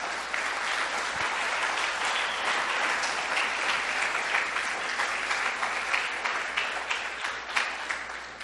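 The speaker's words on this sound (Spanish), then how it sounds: "Dele un fuerte aplauso al Señor." Church congregation claps in a loud, sustained round of applause that fills the room, a dense even wash of many hands with no talking over it.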